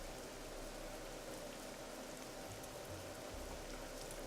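Steady, even rain in the game Nancy Drew and the Crystal Skull, a soft continuous hiss of drops falling on surfaces with no voices and no change in intensity.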